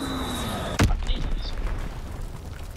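A single sharp, loud gunshot in a video game cracks out suddenly, then decays into a fading rumble and quieter game noise.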